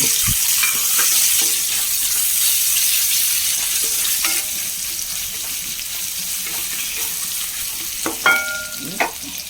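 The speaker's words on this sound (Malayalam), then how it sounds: "നമുക്കിതിലേക്ക് ഒരു കഷ്ണം ഇഞ്ചി ചതച്ചതും കൂടി ഇട്ട് കൊടുക്കാം" Crushed ginger frying in oil in a pan for a squid roast gives a steady bright sizzle, close and fairly loud, with occasional clinks and scrapes of a stirring utensil near the end.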